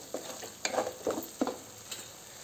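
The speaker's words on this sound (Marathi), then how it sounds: "अशा प्रकारे छान आपला मसाला तेल फुटत आहे" Spices crackling and sizzling in hot oil during the tempering step for a mutton paya (trotter) curry, with several sharp spitting pops scattered over a soft, steady fry.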